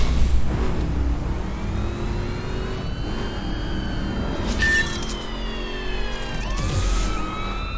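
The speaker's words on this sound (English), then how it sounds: "the police cars make quite a lot of noise" Police car sirens wail and sweep in pitch during a chase in The Crew racing game, loud and continuous over a steady engine roar, with rising whoops layered near the end.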